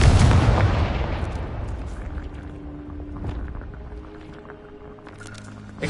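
A Confringo explosive spell blast in Hogwarts Legacy: a loud, booming detonation right at the start that decays into a long rumbling tail, followed by quieter scattered game sounds.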